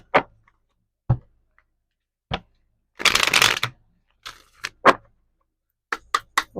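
A deck of Black Hollywood romance oracle cards being shuffled, close and crisp: a dense riffle burst in the middle, framed by scattered single taps and flicks of cards, with no voice.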